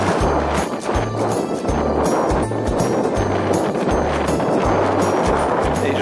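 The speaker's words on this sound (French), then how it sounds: "Toujours autant de vent." Strong wind roars steadily on a bikepacking ride through the windy Corbières hills in the Aude, a loud broadband rush buffeting the microphone throughout, with repeated low rumbling gusts thumping under it.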